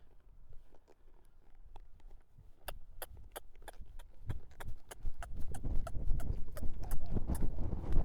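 Horse hooves clip-clopping on the ground during a training session, starting sparse and quiet then becoming a rapid, louder run of sharp beats with rumbling movement underneath.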